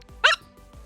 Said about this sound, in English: Sorry, I've got hiccups.